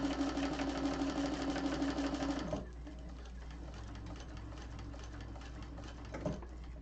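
A sewing machine with a cylinder arm runs in a steady whirring stitch for about two and a half seconds, then drops to a quieter, softer hum with faint mechanical ticks and a brief bump near the end.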